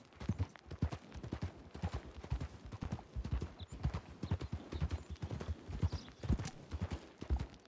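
A horse in a video game trots around Valentine on a hunt, its hooves clip-clopping in a steady, close rhythm throughout with no one speaking.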